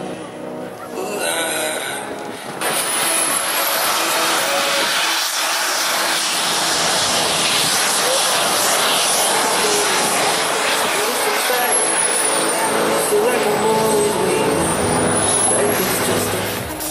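A propeller airplane's engine drones loudly and continuously as it comes in to land at an air show, with someone talking over the noise.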